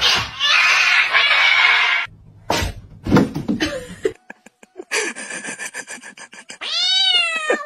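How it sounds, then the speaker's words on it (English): Cute cat meowing up close, a few loud rising-falling meows at the end, preceded by rasping rubbing and scratchy noises with short gaps of near silence. "Meow."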